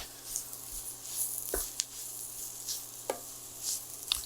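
Gumbo ingredients sizzling faintly in a hot pan, a soft steady hiss with occasional stirring scrapes and light knocks from a utensil.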